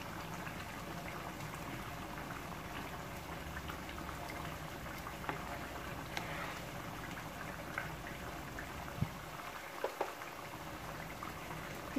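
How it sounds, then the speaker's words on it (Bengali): A pot of khichuri at a rolling boil, a dense steady bubbling and gurgling that runs throughout, with a few small clicks and knocks toward the end. "আমার খিচুড়িটা বলক চলে এসেছে।"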